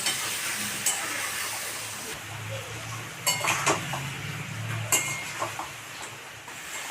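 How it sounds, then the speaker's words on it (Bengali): Spice paste with salt, turmeric and Kashmiri chilli fries in a pan as it is stirred, a steady sizzle broken by scraping and clinking of a spoon against the pot. "এবার আমি মশলাটাকে ভালোভাবে কষে নেবো"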